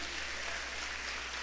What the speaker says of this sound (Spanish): Aplauda al Dios de la gloria.